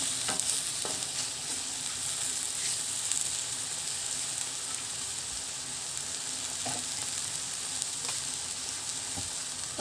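Chicken pieces sizzle steadily in a hot pan for a Filipino nilagang manok, with occasional scrapes and clicks as they are stirred and turned.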